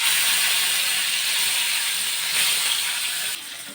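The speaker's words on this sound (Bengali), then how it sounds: "মাছটাকে ভাজতে দিলাম" Bhetki fish, coated in salt and turmeric, frying in hot oil in a pan, giving a continuous loud hiss and sizzle that stays steady before easing slightly near the end.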